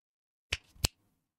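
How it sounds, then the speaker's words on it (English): Two quick finger snaps in close succession, crisp and near, set against near silence. "I heard a finger snap."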